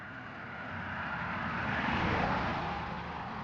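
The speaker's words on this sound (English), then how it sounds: "Oh, I'm hearing all the traffic." Steady broadband roar of distant road traffic heard from the Florida Everglades, a continuous wash of engine and road noise that swells slightly midway, with no voices.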